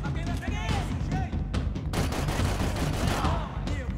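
Rapid bursts of gunfire from the video game Max Payne 3 crackle loudly in quick succession, with a voice speaking over the shots.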